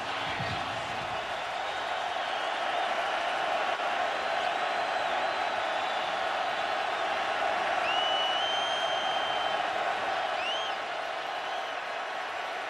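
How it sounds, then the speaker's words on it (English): Big football stadium crowd at Louisville roaring steadily as Florida State plays, a dense, continuous wall of cheering with scattered whistles and shouts rising above it throughout. "the crowd is just feeling it"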